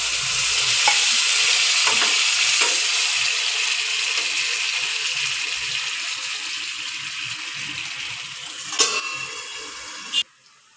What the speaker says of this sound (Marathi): थोडंसं पाणी घालूया बटाटा शिजेपर्यंत